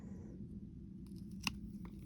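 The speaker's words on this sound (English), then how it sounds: "So I'm going to cut that back pretty far." Pruning shears snip back a branch of a Portulacaria afra succulent, one crisp close cut sounding over a quiet low background hum.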